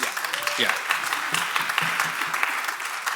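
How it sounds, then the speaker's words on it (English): An audience gives a quick round of applause for the event's tech team: a spread of clapping with a voice briefly talking over it near the start. "Quick round of applause, by the way, for our tech team today."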